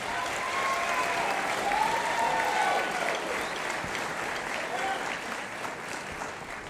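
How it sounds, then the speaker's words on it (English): Audience applause at a school band concert, a sustained round of clapping from a crowd in a hall, steady and fairly distant, with a few voices calling out beneath it. "So let's give one more round of applause for Ben."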